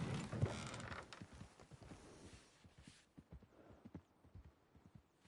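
Horses clip-clopping in a video game. A loud, noisy burst is followed by a steady, fairly soft series of hoof clops walking along, with no talk.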